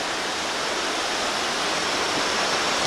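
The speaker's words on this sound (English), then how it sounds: "Waterfall has nothing to do with the flood, but it's kind of a cool feature out here." Waterfall along the Union Canal, a steady, loud broadband rush of falling water that stays constant and close throughout, with no voices.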